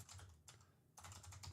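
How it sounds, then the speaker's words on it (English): Typing on a computer keyboard during a live stream, close and fairly quiet, with rapid clattering keystroke bursts that pause briefly midway then resume. "You're typing too many words."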